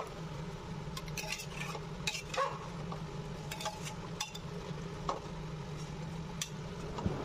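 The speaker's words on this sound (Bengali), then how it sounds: "এবারে সামান্য একটু জল দিয়ে ভালো করে মিক্সড করে নেব" Mutton is stirred with spices and a little water in a pressure cooker, producing scraping, knocking utensil strokes and light clinks over a soft sizzle, close and fairly quiet.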